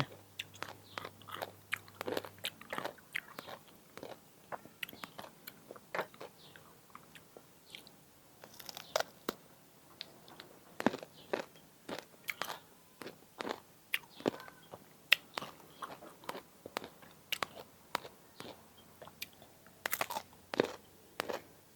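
Crunchy bites and chewing of salt-pickled mango, a series of sharp, close crisp crunches repeating irregularly through the whole stretch, with no talking.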